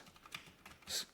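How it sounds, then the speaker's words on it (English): Fast typing on a computer keyboard whose keys differ from a standard Apple keyboard, heard as a short burst of quick, soft clicks close by, with a denser cluster of keystrokes near the end. "the keys are very different than a normal Apple keyboard, so it's when you're typing fast"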